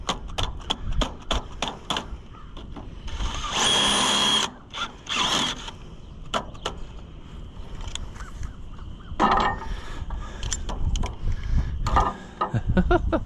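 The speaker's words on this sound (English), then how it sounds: "Ever seen a drill bit used as a hammer?" A drill bit used as a hammer on an Oliver 1250 tractor's starter gives a series of sharp metallic taps in irregular clusters, broken by a few longer whirring bursts from a power tool, close and fairly loud.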